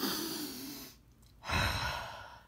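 A close, airy exhale rushes out, pauses briefly, then another long breath follows.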